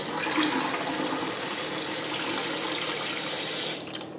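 Kitchen tap running ice cold water into a small dish, a steady, loud, splashing gush for several seconds that stops abruptly near the end, with no talk.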